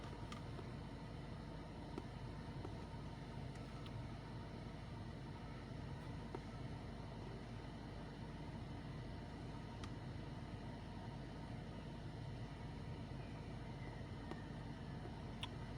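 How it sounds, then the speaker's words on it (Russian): A Skoda Octavia A7 with a 2.0 TDI diesel engine idles steadily with a constant low rumble and faint occasional ticks, heard at low level without change throughout. "Запускаем двигатель."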